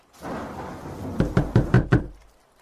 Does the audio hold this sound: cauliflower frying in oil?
no